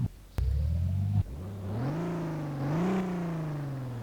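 Engine of the 200bx "Rotsun" car in the game BeamNG.Drive, revving hard in short bursts, then climbing steadily through the gears with a buzzy, rising whine, loud and close with no talk over it.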